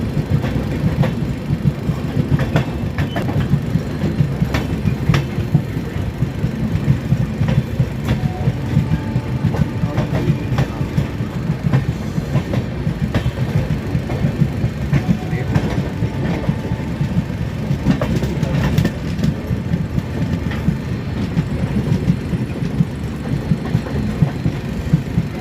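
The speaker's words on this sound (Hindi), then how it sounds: "आम्रपाली एक्सप्रेस शाम के 5:30 बजे के करीब हमारे घर के पीछे से ही निकलती है" Amrapali Express passenger train passing close by on rails near Ghaziabad, a steady loud rumble with clickety-clack wheel rhythm running throughout, no voices.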